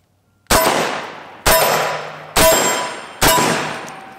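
Four loud, sharp shots from a semi-automatic shotgun firing birdshot, buckshot and slug loads in quick succession, each blast ringing out and decaying before the next, roughly a second apart.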